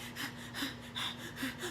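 A voice imitates a baby's rapid hyperventilating gasps, a quick run of breathy, rhythmic inhalations and panting close to the microphone, repeated about four times over a couple of seconds.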